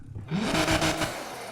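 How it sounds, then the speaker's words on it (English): Car engine revving hard with an aggressive exhaust tune in Need for Speed Heat, a loud, steady roar swelling briefly and then holding, close and alone. "Let's take this thing all the way to aggressive and rev it up again."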